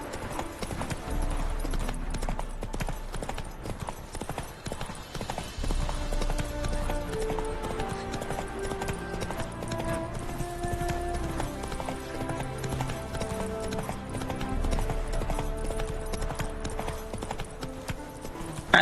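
Horse hooves clip-clopping steadily at a gallop in The Witcher 3 video game, a continuous rhythmic beat running under layered game music and ambience at moderate level.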